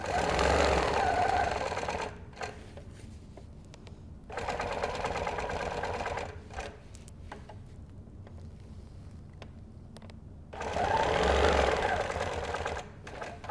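A sewing machine stitches a quilt in the ditch with a hopping foot, running in three loud bursts of rapid mechanical chatter separated by quiet pauses with soft handling sounds.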